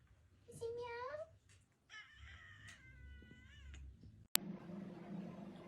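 A cat meows several times, drawn-out and dramatic with rising and falling pitch, close by indoors, while a person murmurs quietly in the background and a sharp click cuts in near the end.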